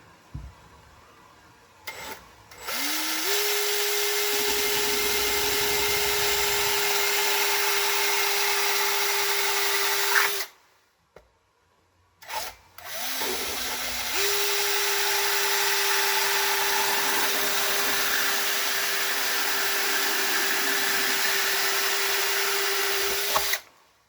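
Two long runs of a drill boring a hole through a plastic Tupperware container, each a steady loud grinding whine lasting several seconds, separated by a short pause.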